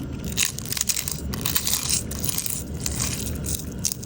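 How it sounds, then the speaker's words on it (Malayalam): Fried papadam snapped and crushed into pieces by hand, a close run of dry crackling crunches in quick bursts, fairly loud with no talking. "അപ്പോൾ പപ്പടത്തിന് കുറച്ച് പൊട്ടിച്ചെടുക്കാം"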